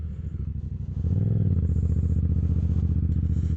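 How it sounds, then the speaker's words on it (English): A motorcycle engine idles close by during a road test, then revs up into a loud, steady, throbbing rumble. "Well, in a nutshell, don't be nervous about the motorcycle test because it's easy."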